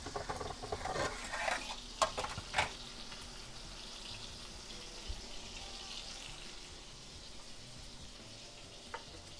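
Pork shoulder searing in a pan, a quiet, even sizzle that carries on steadily with a few knocks and clatters near the start and occasional faint taps later.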